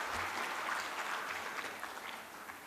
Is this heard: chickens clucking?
no